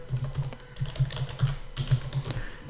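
Password typed on a computer keyboard while setting up Windows 10 picture passwords, a quick run of soft, evenly spaced key clicks close by, with no voices over it.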